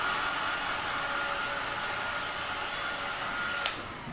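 A hair dryer blows over a prepped canvas with a constant close whooshing roar and a steady motor whine. It cuts off with a short click near the end.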